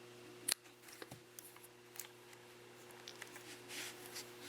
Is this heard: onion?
no